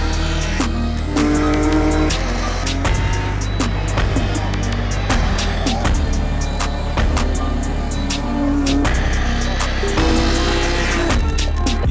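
A Ginetta G50 race car runs on a circuit, its engine note rising and falling with gear changes and passes amid steady loud mechanical roar and some tyre noise.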